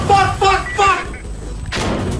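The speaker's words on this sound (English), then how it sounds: "That's a grenade!" A grenade goes off in the shooter game Insurgency: one sudden, sharp, loud blast near the end, preceded by someone talking and trailing into a brief noisy rumble.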